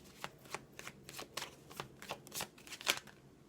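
Tarot cards are shuffled by hand in a quiet room, a soft rhythmic run of papery riffles and flicks with about a dozen light strokes and no voice.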